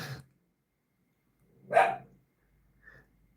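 A dog barks in a quiet home, a few separate loud barks with pauses between them and a softer yip at the end, with no talking.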